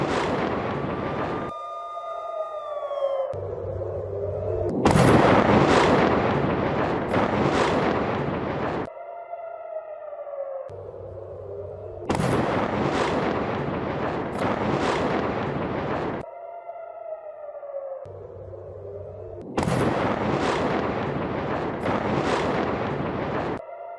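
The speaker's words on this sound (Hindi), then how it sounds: "तेल अवीव पर जोरदार मिसाइल से हमला।" Iranian missile strikes hit Tel Aviv with several heavy, roaring blasts and rumbles in separate bursts, broken up by quieter passages carrying swooping whistling tones.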